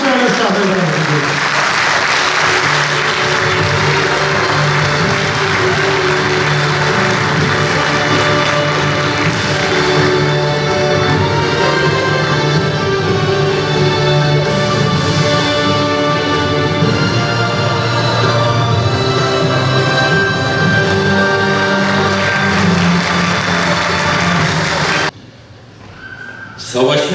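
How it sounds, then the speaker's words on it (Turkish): Audience at a short film festival award ceremony gives sustained, loud applause for a director invited to the stage, steady throughout before cutting off near the end, with voices mixed in. "Kocaman alkışlarla sahneye davet ediyoruz."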